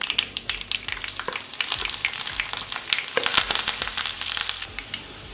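Cashews, chopped green chili, fresh ginger and curry leaves fry in hot oil with a loud, continuous crackling sizzle and scraping stirs, close up with no talking.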